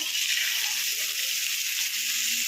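Ivy gourd (tondekayi) frying in a pan with onions for spicy palya, giving a steady, even hiss of sizzling oil that stays close and continuous with no talk.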